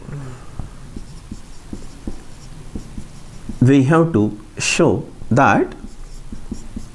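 Chalk or marker taps and scrapes on a board in short, regular strokes during a math lecture on metric spaces, soft and steady, with a voice speaking partway through.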